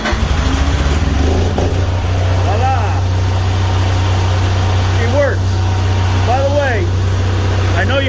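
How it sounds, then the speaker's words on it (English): An Ona 3-wire start generator set starting up by wireless remote, settling into a steady, loud, low engine hum that runs throughout while a person talks over it. "if I press it, you'll see the light go on over here, and hopefully the generator will start up"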